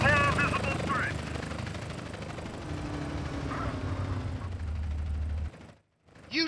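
Helicopter in the GTA San Andreas video game, a rotor whir under game dialogue and gunfire-like bursts, steady for most of the clip before dropping out near the end.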